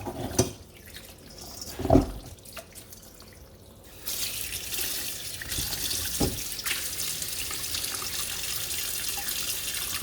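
Tap water runs steadily into a sink over cubed pork knuckle pieces being washed, a soft splash near the start, then a louder continuous rushing stream that holds for the remaining seconds.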